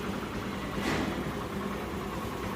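A Honda Activa scooter engine with a crank and bore problem runs at idle, a steady low rumble with a faint knocking texture and a slight swell near the start, close up with no talking.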